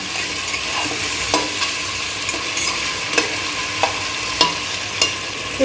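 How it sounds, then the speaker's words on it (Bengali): Sliced onions with a little salt frying for chicken curry, a steady sizzle broken by regular scraping strokes of a spoon about once a second, close and alone. "এবার আমি এখানে পেঁয়াজ পরিমাণ মতো কেটে রেখেছি, একটু সামান্য নুন দিয়ে দেবো, দিয়ে এবার ভালো করে নাড়বো।"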